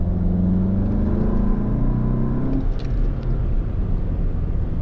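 Volkswagen MK7 GTI with a Cobb DSG tune pulling hard inside the cabin, engine drone rising steadily until a quick gear change around midway drops the pitch, then continuing under load; loud and close, no talking.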